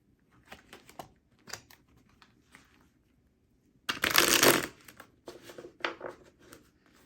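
A deck of tarot cards shuffled by hand, with scattered soft card flicks and taps followed by one dense, riffling burst near the middle, then more light slaps as cards drop, all close and fairly quiet.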